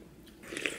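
A single soft bite and short crunchy chew of a fried egg, quiet and close, with no talking.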